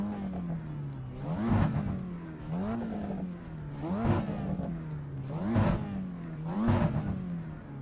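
Race car engine in the iRacing video game, revving in a repeating cycle: about five climbs in pitch each ending in a sharp shift, steady and fairly quiet with no talk.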